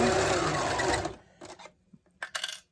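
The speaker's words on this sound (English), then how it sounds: "It all depends on how my foot step on this damn machine." A foot-pedal sewing machine stitching a face mask runs in a fast, loud burst, then slows to short, separate whirs and clicks with quiet gaps between them, heard up close.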